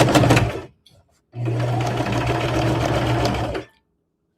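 Sewing machine stitching the seams of a quilt block, a close, steady mechanical whir in two runs: a brief burst, a pause, then a longer continuous stretch before stopping.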